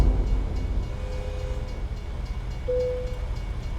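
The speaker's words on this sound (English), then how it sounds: "And, of course, there's a train coming." A train in the video game American Truck Simulator rumbles past with a low continuous roar, sounding two short horn blasts, the second one louder.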